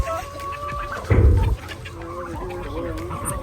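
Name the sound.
chickens clucking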